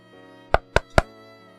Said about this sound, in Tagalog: may kumatok sa kanilang pintuan. Mahina sa una. Pagkatapos ay sunod-sunod.